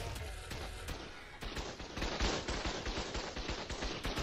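Turret gunfire in a video game, a loud, fast string of repeated shots that grows denser and heavier partway through, without a break.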